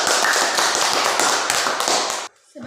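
Classmates in a high school religion lesson applaud a group with a burst of brisk, close clapping that stops abruptly, followed by a brief quiet and a faint voice.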